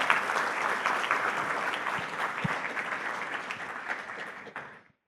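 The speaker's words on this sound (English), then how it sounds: "I did want to do a round of applause for the Roost event management team" Applause from a conference audience for the event management team, a full, steady round of clapping that holds evenly and then stops abruptly.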